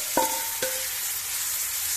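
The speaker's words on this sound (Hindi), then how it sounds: "जो ये हमने गाजर मूली को काट के रख रखा है वो सारा इसमें मिक्स कर देंगे" Chopped carrot and radish are stirred into a pickle mix, with two sharp ringing clinks of a utensil against the container early on, then a soft, steady hiss for the rest of the clip.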